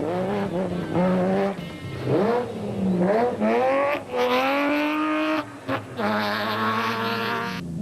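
A Nissan rally race car engine revs hard through repeated rising gear pulls, each climb in pitch cut short by a shift. The loud, close roar fills the whole stretch with no voices over it.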